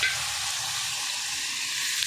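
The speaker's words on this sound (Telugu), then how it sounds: "తాలింపు మంచిగా ఫ్రై అయింది" Tempering spices fry in a pan of oil for a mutton curry, giving a continuous, close, even sizzle with no voices.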